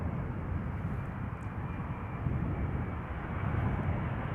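Boeing 787 Dreamliner airliner on approach to Amsterdam Schiphol, heard as a steady, broad low jet roar that holds fairly constant throughout, with no voices.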